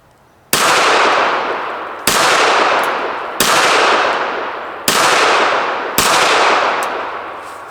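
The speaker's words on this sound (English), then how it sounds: "we're going to do another 5 rounds just using the sights on the gun" A pistol fires five rounds at a paper target, aimed with its sights: five loud, sharp cracks spaced about one to one and a half seconds apart, each trailing off in a long ringing echo, with no talking.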